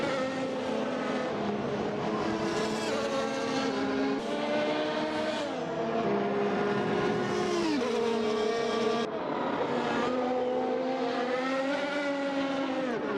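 Race cars in the Bahrain VGP Teleios Dome sim-racing event drone along the track, a dense layered roar of several engines with shifting pitch as they rev and accelerate, loud and continuous throughout.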